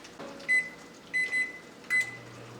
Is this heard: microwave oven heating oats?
yes